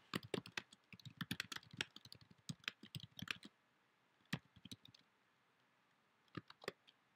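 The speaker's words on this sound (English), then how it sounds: "I'm going to type my question like I did before" Quiet computer keyboard typing in irregular bursts of rapid clicks, then a pause with a few isolated keystrokes near the end.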